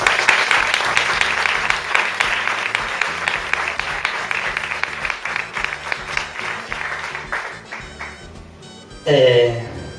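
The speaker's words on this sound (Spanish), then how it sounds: "al que pido un fuertísimo aplauso, por favor" An audience claps loudly and steadily during a school cultural week event, with the dense applause slowly thinning out before a voice comes in at the end.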